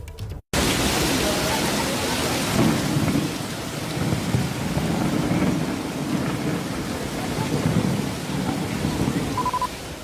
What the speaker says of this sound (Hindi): जोरदार बारिश हो रही है।